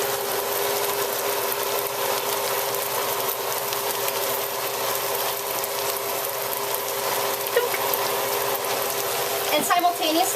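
Pork and shrimp fry in a pan with sugar, giving a steady, soft sizzle throughout, with a brief clatter near the end.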